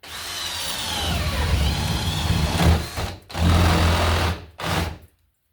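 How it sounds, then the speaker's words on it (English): A drill buzzes continuously up close into a drop ceiling, then cuts out and starts again in two shorter bursts before stopping. "And we'll drill our other hole up here."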